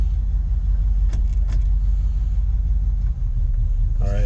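A 1971 Chevy's engine rumbles at a steady low idle, close and loud, with a couple of brief clicks and a clunk as it is shifted into drive near the end.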